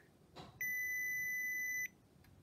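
A button press on a Kimetsu Tamagotchi toy triggers one sustained electronic tone lasting over a second, clear and close after a faint click.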